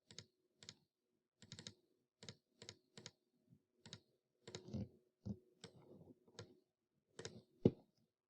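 Keys pressed on a graphing calculator in a quiet room: a string of short, crisp plastic clicks in uneven bursts, some quick pairs and some single taps, close and fairly soft.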